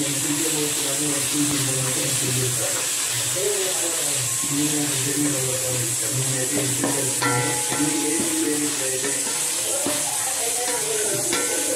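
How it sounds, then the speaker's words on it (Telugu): Ginger garlic paste fries in hot oil, giving a continuous sizzle with steady stirring scrapes throughout, fairly close and even, while a voice talks over it now and then. "ఇదంతా బాగా వేగాలి ఆయిల్లో."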